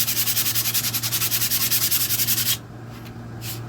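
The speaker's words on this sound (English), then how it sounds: "Get our sandpaper." Rapid, rhythmic scratching of sandpaper rubbed back and forth over a 1970s five-band radio, fairly close and steady, stopping abruptly after a couple of seconds.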